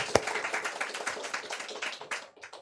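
A church congregation claps together during a Sunday service, a burst of scattered hand claps fading and thinning out toward the end, moderately distant.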